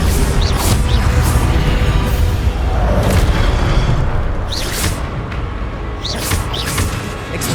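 Incendio and Expelliarmus spells cast in the video game Hogwarts Legacy, heard as loud, rumbling magical blasts and crashes that repeat in quick succession over a dense, booming background.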